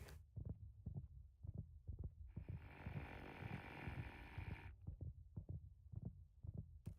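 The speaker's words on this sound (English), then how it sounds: "I don't hear his heartbeat going down any bit," Deep, evenly paced thumping of the Minecraft warden's heartbeat from the video game, beating about twice a second throughout, with a long wash of hissing noise layered over the middle stretch.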